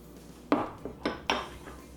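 A lidded jar holding a lemon and maple syrup dip being shaken, giving four sharp rattling clinks, each landing with a crisp knock and fading quickly, close and moderately loud with no speech.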